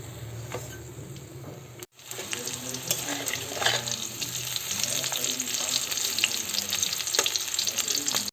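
Fish frying in a pan at home, a continuous crackling sizzle that cuts out briefly and then resumes louder, with faint clinks and possible running water in the background.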